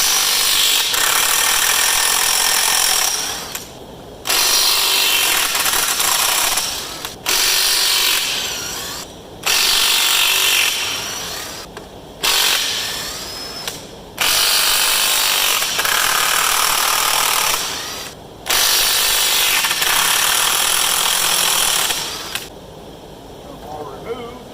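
Power tool loosening 1-1/16 inch lug nuts on a combine tire, loud rattling bursts of several seconds each, repeated about eight times with brief pauses between.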